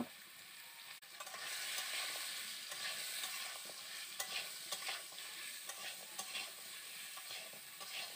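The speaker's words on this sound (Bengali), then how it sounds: "এবারে দিয়ে দেব কেটে রাখা আলু, পটল আর কুঁদরি। এই উপকরণগুলোকে ভালো করে আমি ভেজে নেব।" Potato, pointed gourd and ivy gourd pieces fry in hot oil, giving a continuous close sizzle broken by the scrape and clack of repeated stirring.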